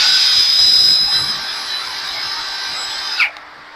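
A Ryoku cordless brushless impact drill with a copper-wound motor runs alone at close range, a loud smooth high whine with a whistling tone that holds steady, then winds down abruptly as the trigger is released.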